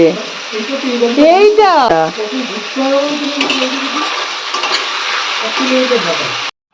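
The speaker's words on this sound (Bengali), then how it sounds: "আদা দিয়ে ভালো করে কষিয়ে নিয়েছি" Ginger and spices sizzle and fry in a pan with a steady hiss while being stirred, and someone talks over the cooking noise for most of the time.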